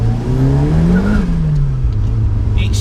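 A Series 1 Ford Escort RS Turbo engine drones loudly from inside the car while driving through a small island town, with a steady low hum that rises slightly in pitch and then settles.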